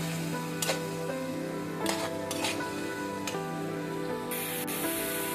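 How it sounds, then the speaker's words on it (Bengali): Spice masala with chili powder, green chilies and salt sizzles steadily in a pan for a Bengali eggplant and egg curry, with scraping stirs and occasional clinks of utensil on the pan. "মশলাটাকে আমার কষানোর প্রক্রিয়া চলতেছে"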